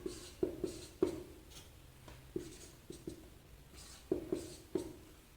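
Pen on paper writing out a subtraction by hand: quiet, close taps and short scratchy strokes in irregular bursts with brief pauses, no voices.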